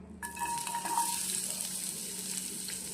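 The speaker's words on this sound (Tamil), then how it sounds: "இப்போது நம்ம கட் பண்ணி வச்சுருக்கிற ஆனியனை சேர்த்துக்கலாம்." Chopped onions drop into a hot kadai and burst into a loud, hissing sizzle that settles into steady frying, close and without talk.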